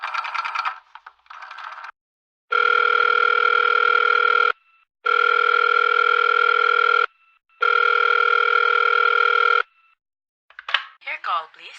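A landline telephone's steady dial tone sounds in three long, even bursts separated by brief gaps, loud and close, with short bits of speech and handset handling noise before and after.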